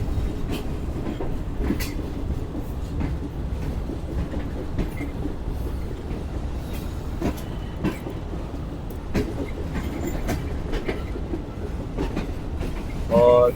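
A Shalimar Express passenger train on the line from Lahore to Bahawalpur rounds a curve, its steady rumble carrying regular clickety-clack wheel beats heard from inside the carriage, with a brief squeal near the end.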